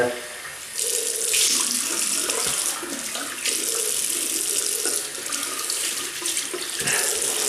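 A tap runs hard into a sink to rinse a double-edge razor, a loud continuous splashing stream that shifts slightly as the blade moves through it, with no voices.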